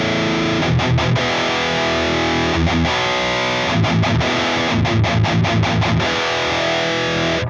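A Jackson KV Pro guitar runs through a Metal Zone distortion pedal into a Marshall JCM800 2210 amp. Heavily distorted, palm-muted chugs and chords punch out in tight rhythmic bursts with brief gaps, loud and close.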